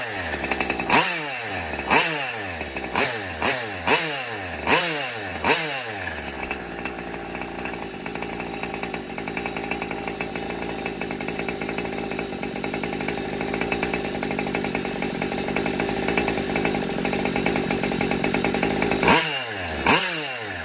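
A 45cc Brovan reedcase two-stroke engine in a Baja MAX-T RC car starts on one pull and runs with a loud, buzzy, chainsaw-like drone, revving in sharp bursts before settling into a steady high idle, then blipping again near the end.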